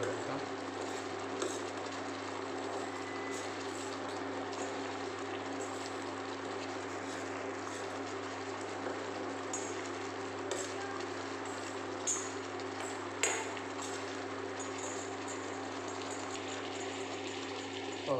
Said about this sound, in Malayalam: നല്ലവണ്ണം തിളച്ച് വരുന്നുണ്ട്